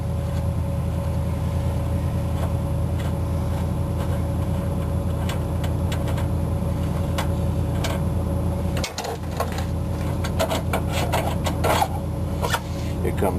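A nut is worked off a trailer wheel hub with metallic rasping and clicking near the end, over a steady low hum of background machinery.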